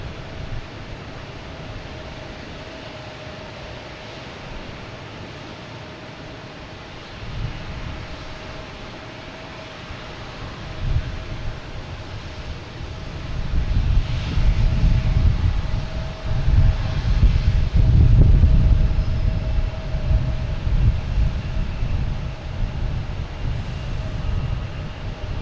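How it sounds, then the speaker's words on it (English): A JetBlue Airbus A220 arriving at Boston Logan Airport from West Palm Beach, its engine roar building from a distant hum to a loud broad rumble as it passes, then easing off slightly while still steady. "Next to arrive is JetBlue coming in from West Palm Beach, A220"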